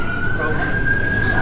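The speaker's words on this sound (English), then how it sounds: "The police siren" A steady, high wailing police siren held at one pitch, loud and close, over a rumbling low background.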